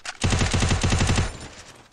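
A rapid burst of automatic gunfire in a shooter video game, a fast string of about a dozen close, loud shots over roughly a second before trailing off.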